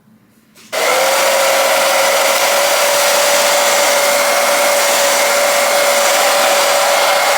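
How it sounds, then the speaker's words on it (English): A hair dryer switches on abruptly and blows steadily on high, cool setting, drying a wig, a loud, constant whooshing whine close by. "I'm gonna blow dry it with a blow dryer on high, but also on cool."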